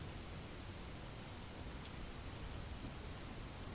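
Artificial storm sound effect with rain plays as a steady, faint, even wash of falling rain, with no voices and no clear thunder.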